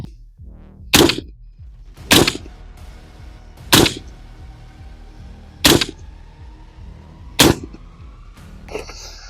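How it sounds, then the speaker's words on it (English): Kral Arms KR556 rifle firing five rounds of PMC ammo: five distinct, spaced shots heard from a slight distance, each a sharp crack with short decay, no talking. "let's see how 5 rounds of PMC ammo does on my target"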